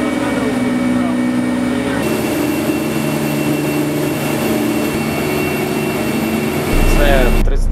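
A 34-foot navy river patrol boat's engine drones loudly and steadily, its tone shifting partway through, with a louder rumble and rushing noise at the end.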